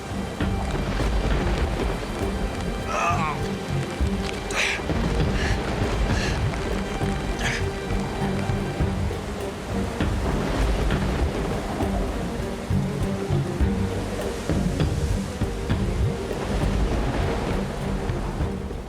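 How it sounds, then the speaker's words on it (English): Heavy rain pours down through a relentless storm in grizzly country, a dense continuous wash of downpour with low rumbles of thunder rolling beneath it, steady and loud throughout with no talking. "But the relentless storm and the slippery ground are taking their toll on Bruce."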